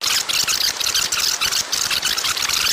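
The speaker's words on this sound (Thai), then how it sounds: "เราต้องกรอเทปกลับไปเริ่มใหม่ด้วยเครื่องกรอ เทป และนี่คือเสียงของมัน" A VHS video tape rewinder whirs steadily, a continuous high mechanical spinning hum with slight rhythmic flutter, close and fairly loud throughout.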